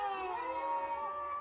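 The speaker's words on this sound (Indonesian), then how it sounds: "Ini kucing kenapa pada gelut dah?" Cats yowl and caterwaul in a fight in the video game A Space For The Unbound, with a sustained, wavering cry that holds steady and fairly loud throughout, with no talking.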